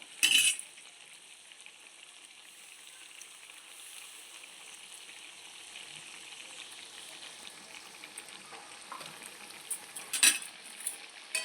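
Chicken biryani masala with green chilli paste stirred in a pan, a soft steady sizzle with spoon scrapes and a couple of sharper metallic clinks at the start and near the end.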